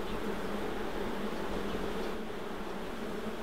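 Feral honey bees droning steadily at a hive in the bush, a dense continuous buzz that stays close and even throughout, with no voices.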